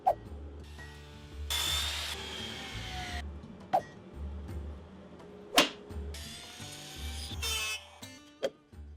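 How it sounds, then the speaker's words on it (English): A power drill with a Forstner bit bores a recess into wood for the head of a brass bolt, in bursts of whirring spin broken by pauses and a few sharp knocks, fairly quiet overall. "I started by drilling the recess for the head of a brass bolt on the back side with a Forstner bit"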